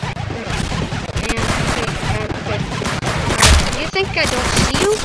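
Rapid gunfire rattles through a round of the Roblox shooter Arsenal, with loud overlapping shots and bursts sounding almost without pause while a player talks over the action.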